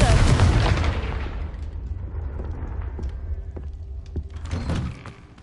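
Confringo fire spell cast in Hogwarts Legacy: a loud fiery blast erupts at once and fades into a rumbling tail, with scattered thuds and a second smaller swell near the end.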